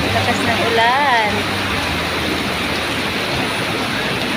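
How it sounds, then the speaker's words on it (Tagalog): Heavy rain pours down in a strong wind, a dense, loud, continuous wash of hiss that fills the whole clip, with a brief whistling tone near the start. "Ayan o, lakas ng ulan."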